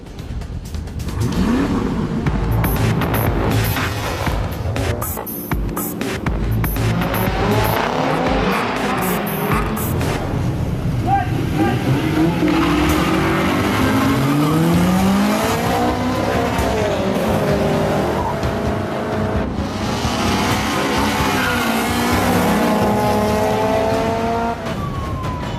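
Street racing cars roaring through town at night, engines revving hard with rising and falling pitch sweeps and tire squeals, continuous and loud over about twenty-five seconds, with sporadic voices and radio chatter mixed in.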